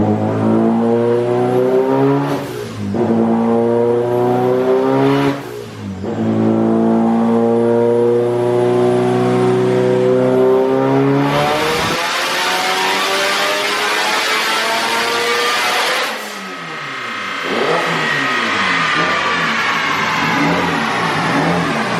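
A turbocharged SR20DET engine on a dyno with a misbehaving boost controller revs hard in repeated loud climbs, dipping briefly between pulls before a long rising sweep, with no talking over it.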